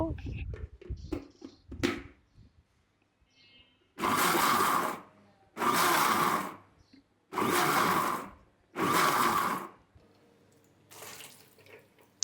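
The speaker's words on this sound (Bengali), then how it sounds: "এখন আমি দেখাবো কিভাবে ব্লান্ডার করে কাঁচা ব্লান্ডার করা যায়" Electric blender whirring through raw beetroot for juice in four loud, sustained bursts of a couple of seconds each, separated by short pauses, after a stretch of talking.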